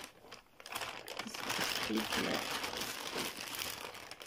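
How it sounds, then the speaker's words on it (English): Crinkling plastic rustles close by as a bag is handled and opened, with a voice speaking over the noise. "is the plastic bag that inside is my order. So we open this"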